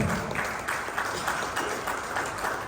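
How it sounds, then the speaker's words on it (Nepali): Audience applause at a Shingo Day ceremony held by a former soldiers' welfare committee in Kathmandu: steady, dense clapping from a crowd, fairly loud and continuous throughout. "ताली बजाई सम्मान गरिदिनु हुन म सम्पूर्ण अनुरोध गर्दछु"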